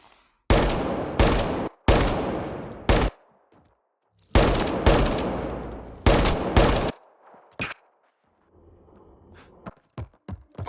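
Bursts of automatic gunfire from a Mass Effect: Andromeda firefight, several loud, close volleys with short gaps, then scattered single shots and thuds trailing off.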